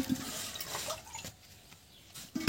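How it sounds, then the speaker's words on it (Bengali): Rinse water from washed rice poured off from a pot in a home kitchen, a splashing gush that starts strong, fades to a trickle and ends with a brief final splash. "চালটা ধুয়ে জলটা ফেলে দিচ্ছি"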